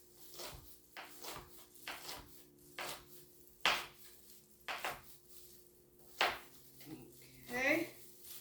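A knife chops through bell pepper strips on a cutting board, about a dozen separate thuds at an uneven, unhurried pace, close and fairly clear, with brief speech in the background.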